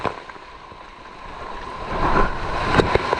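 Strong typhoon waves crash near a damaged seaside home in Mindoro, a rough wash of surf and wind noise building louder toward the end with a few sharper splashes.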